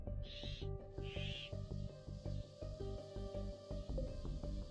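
A giant bird in the Rimworld colony sim hoots twice like an owl, soft and breathy, over a steady rhythmic musical backing with a regular beat.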